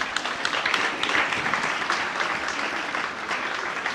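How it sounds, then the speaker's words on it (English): An audience at a senior high school gathering breaks into sustained applause, a thick, even patter of many hands filling four seconds at moderate volume. "I thought you were going to clap for us."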